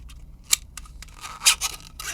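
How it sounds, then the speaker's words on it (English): Scissors cut into a plastic microphone adapter, giving a few sharp snips and scraping crunches spaced irregularly, close and fairly quiet, with no voices. "So I'll grab my scissors and get to work on that. I'm just gonna literally start cutting this thing."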